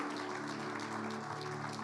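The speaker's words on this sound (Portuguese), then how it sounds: "Dá um aplauso a Jesus de alegria" Church congregation applauding during an evangelical sermon, a steady broadband wash of clapping over a low sustained organ or keyboard drone, fairly quiet and even throughout.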